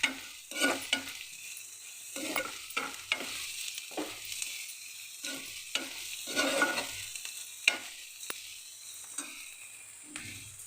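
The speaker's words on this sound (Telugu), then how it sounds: "ఈలోపు ఉల్లిపాయలు వేగుతూ ఉంటాయండి" Onions fry in a pan, a bright sizzle broken by repeated scraping bursts as they are stirred, close and fairly loud with no talking.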